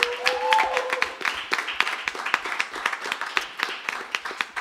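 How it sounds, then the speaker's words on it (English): A live radio-show audience claps for a performer, a fairly small crowd producing distinct, irregular hand claps with audible individual strikes, a brief whistle near the start, continuing evenly and close by. "how about one more round of applause for Timothy Chandler Hicks"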